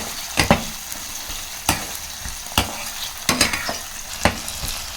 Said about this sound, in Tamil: உருளைக்கிழங்கு பார்த்திங்கன்னா தண்ணி விடாமல் இந்த எண்ணெயிலே நல்லா வணங்கி வெந்துடணும்